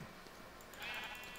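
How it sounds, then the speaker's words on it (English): Minecraft sheep bleating, a rare pink sheep in a modded game world, one short synthetic bleat rising near the end of a quiet stretch, fairly clear and alone with no talk over it. "Oh, look, a rare pink sheep."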